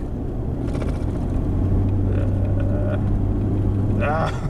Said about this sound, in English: Now I'm stuck behind this truck.